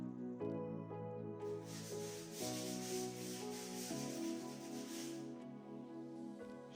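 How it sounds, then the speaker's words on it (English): Sustained scraping with 80 grit sandpaper smooths a fresh first coat of plaster laid over bathroom wall tiles, a steady rasping stroke that runs for several seconds beneath a soft musical backing. "now I'm sanding it down with an 80 grit sanding paper to make it all even"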